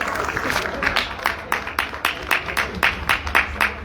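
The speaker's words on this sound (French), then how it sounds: "Ouais, on applaudit." An audience at a talk breaks into applause, with distinct, fairly rhythmic claps that come in bursts and stay moderately loud, while faint crowd murmur sits underneath.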